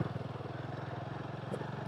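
Near and fairly loud, a motorcycle engine pulses steadily in first gear as the bike crawls over a rough, rock-strewn mountain road on the way to Badrinath, with a brief bump of clatter.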